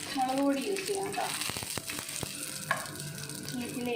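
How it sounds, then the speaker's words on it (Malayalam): Dried shrimp sizzle and crackle in hot oil for a Kerala-style chutney powder, a steady close frying hiss with stirring scrapes and a few sharp ticks, while a voice talks briefly at the start. "ഇത് നന്നായിട്ടൊന്ന് ഈ എണ്ണയിലിട്ടൊന്ന് വറുത്തെടുക്കുക"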